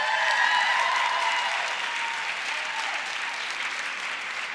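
An audience at a St. Mary's County commissioners' public budget hearing breaks into loud, sustained applause that fills the room and tapers slightly toward the end, with a few voices faintly underneath.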